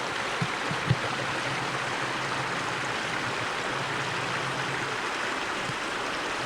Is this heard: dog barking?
no